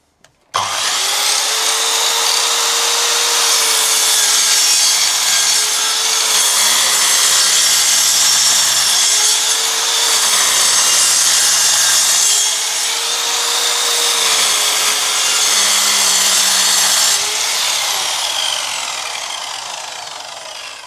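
Einhell radial saw cutting through wood, one long sustained loud whine and rasp with a faint pitch wobble that starts abruptly and runs steadily before tapering slightly at the end, close up with no talking.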